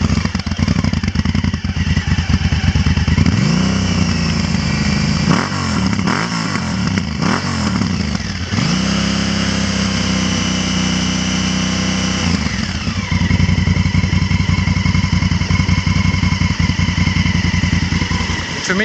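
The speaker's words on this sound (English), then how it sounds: "I'm really impressed with the Akrapovic. I'll start it" A Honda Africa Twin CRF 1000L motorcycle fitted with an Akrapovic exhaust cranks and fires up, then settles into a loud, steady idle with a few throttle blips, close and continuous with no talk.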